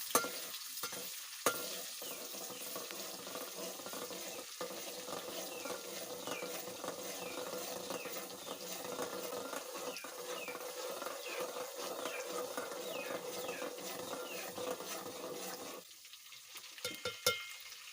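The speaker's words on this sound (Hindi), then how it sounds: "हाणे हिन में असीं थूम ऐड कंदासीं।" Garlic frying in hot oil in a pan, a steady loud sizzle with intermittent scraping and clinking of a spoon stirring, continuing without talk until the sizzle drops near the end.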